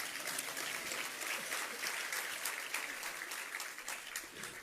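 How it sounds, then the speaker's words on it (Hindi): Audience at a discourse on a ghat in Jabalpur clapping slowly and steadily, a dense, even patter of many hands that holds at a moderate level throughout without any voices. "धीरे धीरे ताली बजाओ"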